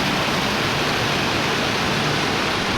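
A waterfall on a White Mountains hiking trail gives a steady, close, loud broadband roar with no break and no voices.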